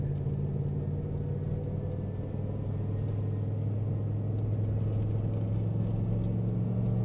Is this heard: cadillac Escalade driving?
yes